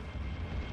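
Cannon fire from a vehicle in Spyro: Year of the Dragon gives a deep, rumbling boom that fills the whole brief moment, heavy and close.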